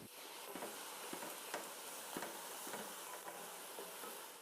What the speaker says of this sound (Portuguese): Deixe fritar por 3 ou 4 minutos até as cebolas dourarem um pouco